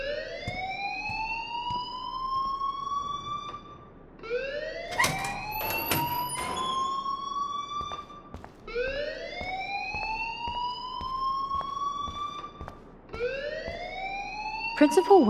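A school alarm in the game Life Is Strange rings in long rising electronic wails that repeat about every four seconds, loud and continuous, with a burst of other noise partway through.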